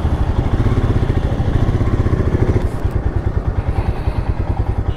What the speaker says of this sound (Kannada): ಸೊ ನನ್ನ ಫ್ರೆಂಡ್ಸ್ ಇಲ್ಲೇ ಇದ್ದಾರೆ ಸ್ಕೂಟಿ ಮೇಲೆ ಬರ್ತಿದ್ದಾರೆ